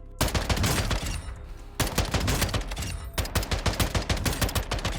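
Semi-automatic rifle fire in the Warzone video game at long range: loud, evenly spaced shots in quick rhythmic bursts, with a short pause between strings of rounds.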